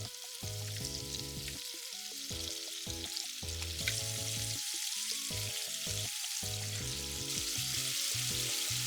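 Eggplant simmering and sizzling in a pan with cooking sake, mirin, sugar and soy sauce, a steady close frying hiss running throughout under music, with no voices.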